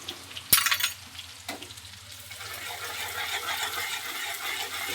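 Garlic drops into hot oil already holding mustard seeds, cumin and finely chopped onion for a Kathiyawadi sev tamatar curry, giving a brief splash followed by a steady, close, crackling sizzle.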